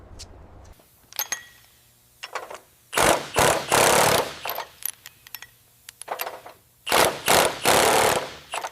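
Pneumatic rivet gun hammering on a Cadillac car body under restoration, loud rattling bursts of a second or so each, separated by short pauses and lighter metallic clicks.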